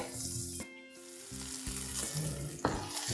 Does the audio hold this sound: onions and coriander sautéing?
yes